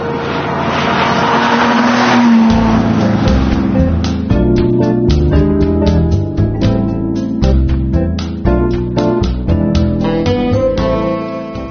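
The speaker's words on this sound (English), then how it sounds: "the car for which the term supercar was first coined, the Lamborghini Miura" A 1965 Lamborghini Miura, the Italian sports car first called a supercar, roars loudly close by, its engine rising then revving hard through rapid throttle blips and gear changes.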